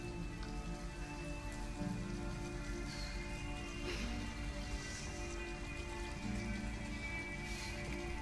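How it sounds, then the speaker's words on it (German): Steady rain falls and patters on surfaces in the video game Detroit: Become Human, a constant, even downpour that fills the whole stretch with no voices over it. "Ja, draußen allein im Regen."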